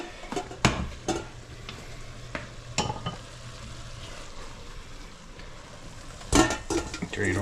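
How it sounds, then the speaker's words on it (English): Browned ground meat and onions sizzling in a pan as the grease is drained, with scattered metallic clinks and scrapes of utensils and cookware over a steady low frying hiss. "Drain all that grease out of there."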